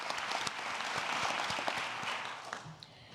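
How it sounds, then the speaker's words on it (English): Applause rises from the audience at the Hidden Heroes Summit for the Dole Caregiver Fellows and coalition members, a dense stretch of clapping that holds steady, then thins out toward the end. "Let's have another round of applause for our Dole Caregiver Fellows and our coalition"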